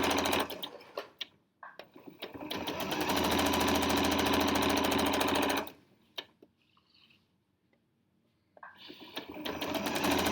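Sewing machine stitching binding onto a quilt, running in a loud steady whirring hum for several seconds, pausing, then starting again.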